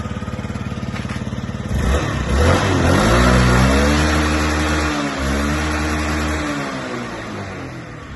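A Yamaha Jog SA36 fuel-injected scooter, a Japanese import with 12,000 km on it, idles with a rapid putter and then revs up into a loud, close mid-pitched drone that holds steady before easing off, with no voices.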